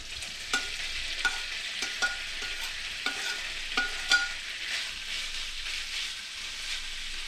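Beef frying in oil in a pan, a steady soft sizzle broken by several sharp clinks of a utensil stirring the meat, fairly quiet and with no voices.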